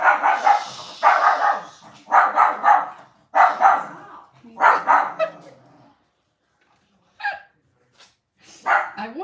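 A dog barks in a series of loud, close, yappy bursts with short gaps between them, then falls silent before a couple of final barks.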